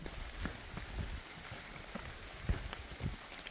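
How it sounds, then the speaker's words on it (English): Rain pattering steadily on a forest trail along the North Country Trail during a 100-mile ultramarathon challenge, a dense continuous hiss with scattered heavier drops and a few nearby footfalls, no talking. "starting to rain a little bit harder."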